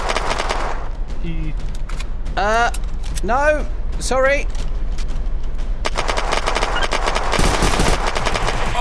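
Rapid machine-gun fire from the video game Unturned rattles through nearly the whole stretch, a dense burst at the end, while voices shout and yell over it during a roadblock shootout.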